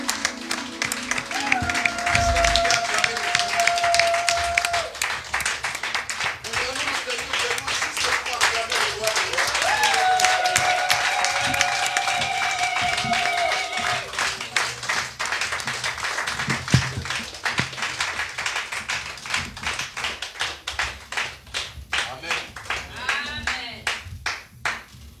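A church congregation claps and cheers in sustained, lively applause at a worship service, with shouts and vocal exclamations rising over the dense clapping, which thins out toward the end.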